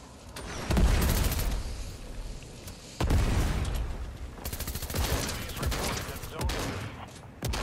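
Gunfire and explosive booms from a Fortnite match, with two heavy bursts of shooting followed by sustained rattling fire and scattered blasts, loud and close throughout.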